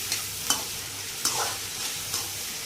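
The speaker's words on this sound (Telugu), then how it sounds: "ఇలా 2 నిమిషాలు ఫ్రై చేసుకుందాం" Egg and garlic chili masala fry in oil with a soft continuous sizzle, while a spatula scrapes the pan in several distinct strokes at a steady stirring rhythm, close and clear with no voices.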